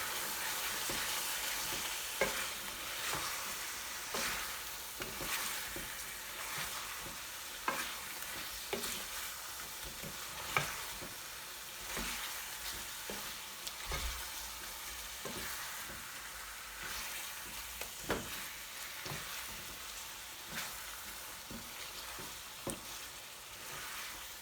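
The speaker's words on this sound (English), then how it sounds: "give this a really good mix" Spiced beef naga curry stirred in a sizzling pan, a steady low fry under repeated irregular scrapes and clinks of the spoon against the pan, close and quiet, without speech.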